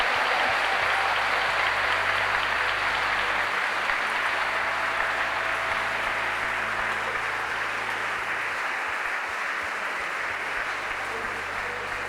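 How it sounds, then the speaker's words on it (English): A graduation ceremony audience applauds steadily for graduates, dense continuous clapping at even loudness throughout, with no break or build. "let's give them a huge round of applause"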